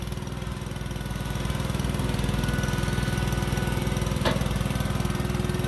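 A Caterpillar 313D2 GC excavator digging a pond after heavy rain drones with a steady diesel engine at a constant mid level, and a brief mechanical clank comes near the end.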